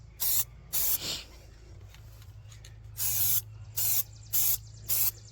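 An aerosol can sprays paint onto a 1951 car motor in several short hissing bursts, some quick and some held for about a second, close by and fairly quiet, with a faint low hum underneath.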